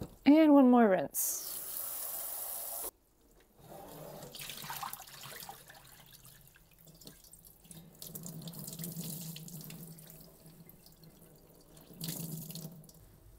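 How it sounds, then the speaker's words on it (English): Cold tap water runs steadily into a sink while a hand-knitted sweater is rinsed, with sloshing and dripping close by, a brief high squeak at the start and occasional surges of flow. "Now I'm going to rinse it in cold water again."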